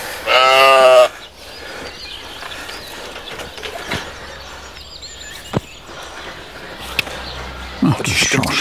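A sheep or goat gives one loud, close bleat during hoof trimming on a farm, followed by quieter shuffling, scraping handling noises and a few sharp knocks.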